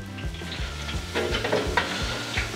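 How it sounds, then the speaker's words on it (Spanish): Meat frying and browning in a hot pan, with a steady crackling sizzle and repeated scraping stirs knocking against the pan, close and fairly loud, no voices. "Voy a retirar la carne para que ya no se siga dorando."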